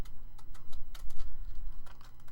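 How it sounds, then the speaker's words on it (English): Scissors snipping through junk journal paper while trimming a pocket, a quick series of close, crisp cuts over a steady low hum. "I'm just going to cut it with my scissors"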